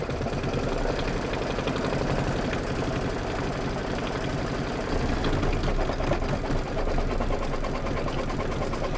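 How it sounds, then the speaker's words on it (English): A sewing machine runs steadily through a satin stitch, its needle hammering in a fast, even mechanical rhythm at close range, loud and constant with no pauses. "this is going to be 4 minutes of stitching"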